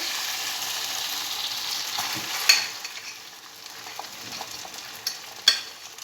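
Potatoes frying in a small amount of oil in a pan, a steady soft sizzle with a few sharper pops and utensil scrapes, close and fairly quiet with no talk.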